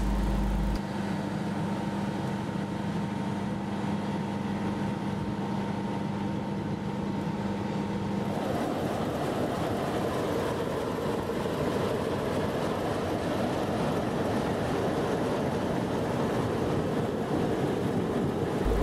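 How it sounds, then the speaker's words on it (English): Two diesel locomotives, 4490 and 4520, idle and pull out of Sydney's Central Station with preserved Southern Aurora carriages, a steady deep engine rumble and hum that shifts tone partway through, heard from nearby without talk. "we are here at Central Station to see 4490 and 4520 heading their way from Central on their way to Melbourne, Victoria"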